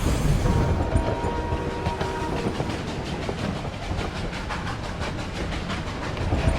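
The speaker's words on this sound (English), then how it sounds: "That's right, it's a train, but not just any train. I'm talking about a super old train." An old steam train runs along rails with a loud, steady rumble and a rhythmic clickety-clack throughout, heard close and alone.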